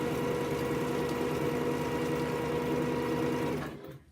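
A sewing machine runs steadily, stitching quilt fabric for a spinning wheels quilt, with a continuous close mechanical hum that keeps on for several seconds and then cuts off near the end.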